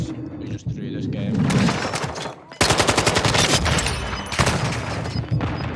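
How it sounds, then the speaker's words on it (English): Sentry gun in Call of Duty Modern Warfare 2 fires long, rapid automatic bursts, loud and continuous with hard rhythmic cracks, alongside other in-game gunfire and explosions while players talk over it. "The sentry gun on top now."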